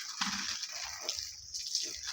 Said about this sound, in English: Just once in a while we water them.